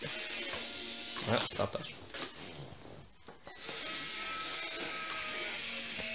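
Small Bluetooth robot running on two 9-volt batteries, its motors and gears whining and buzzing steadily while stuck, briefly broken by knocks and a short spoken remark before the strained drone resumes.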